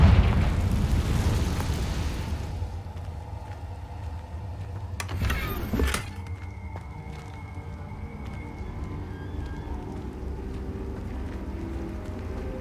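A Confringo spell goes off in the Hogwarts Legacy video game as a rumbling, booming blast at the opening that fades, followed by a brief sharp burst mid-clip and quiet game ambience.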